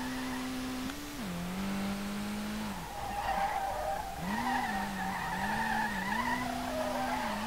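A Nissan R32 drifting in the SLRR video game holds a sustained tire squeal that bends in pitch, fading and returning as the car slides, over a steady engine drone, with no speech.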